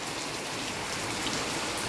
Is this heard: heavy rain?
yes